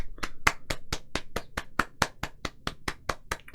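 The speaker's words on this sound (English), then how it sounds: "you get a round of applause from me" A single person claps steadily, about sixteen sharp, evenly spaced claps, close and clear with no voices.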